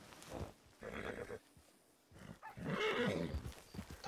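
Horse in the video game Red Dead Redemption neighs with a loud, harmonic whinny in two bursts separated by a short pause, with faint hoof sounds and no talking.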